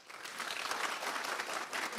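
An audience at a Stanford robotics talk applauds to vote for an answer, a brief, fairly faint burst of many hands clapping that swells and holds for about two seconds.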